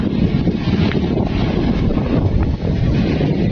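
Strong, constant seaside wind beside big waves buffeting the microphone with a deep, rumbling roar, loud and unbroken throughout.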